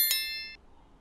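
A single bright bell-like ding, clear and metallic, rings once and fades quickly, followed by near silence.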